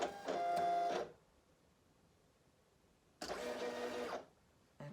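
Silhouette Cameo 4 cutting machine cutting cardstock, two separate loud bursts of whirring motor and carriage movement with a high steady whine, separated by a quiet pause of about two seconds.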